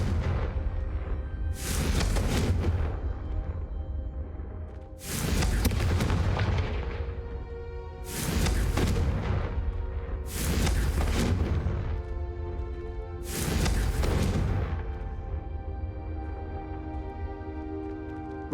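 Five heavy spell blasts from the Confringo fire spell in Hogwarts Legacy, each a loud booming burst roughly every three seconds, ringing out over a steady rumbling game background with no talking.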